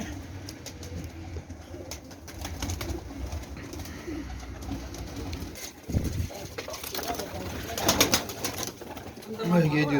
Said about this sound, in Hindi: ये जी उस्ताद जी के परवाज़ वाले कबूतर हैं